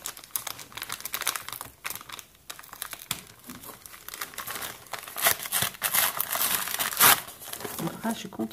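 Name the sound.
unwrapping crinkling gift paper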